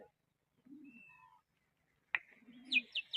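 Pigeons perched on a stall make a few low, soft coos amid sparse outdoor quiet, followed by a sharp sound and quick high chirps near the end.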